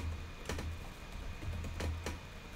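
Typing on a computer keyboard during Roblox Studio scripting: a few quiet, close clusters of key clicks in short bursts over a faint hum, with no talking.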